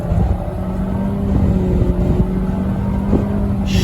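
A 2016 Nissan Rogue SV AWD accelerates hard from a standstill toward 60 mph, its engine drone steady and loud inside the cabin, with wind and road roar blending in and no talking.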